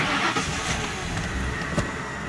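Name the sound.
Lincoln car engine starting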